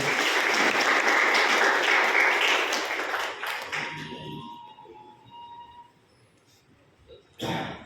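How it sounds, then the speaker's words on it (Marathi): An audience at a book author's talk claps loudly for a few seconds, the applause fading out into near silence before a short burst of sound at the end. "त्यांच्यासाठी सर्वांनी टाळ्या वाजवून"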